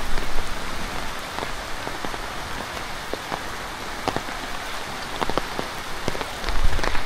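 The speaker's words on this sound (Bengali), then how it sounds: "এইখানে বৃষ্টি শুরু হয়েছে" Morning rain falls steadily near a pond embankment by Hosenpur market, a continuous dense patter on surfaces with scattered sharper drops, slightly louder toward the end.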